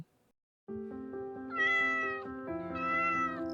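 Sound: cat meowing

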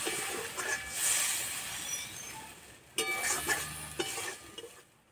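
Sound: water poured into hot pan with spinach and gram flour dish

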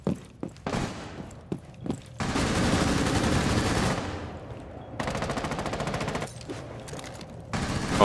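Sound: gunfire in a shooter video game

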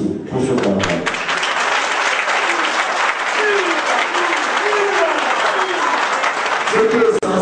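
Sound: audience applause for the cabaret

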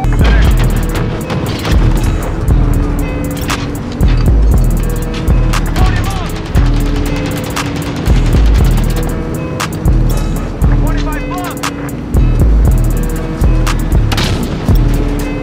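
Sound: gunship firing in Call of Duty video game

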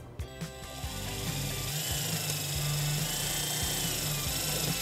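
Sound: driving a self-tapping screw to attach a trailer wiring ground

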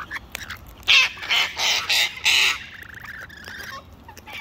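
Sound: lorikeets squawking while feeding

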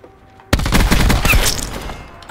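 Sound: gunfire in video game Black Ops 4

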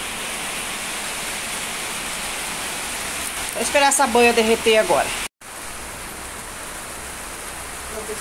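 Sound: heavy rain falling

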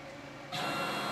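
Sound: CNC router moving to set zero position

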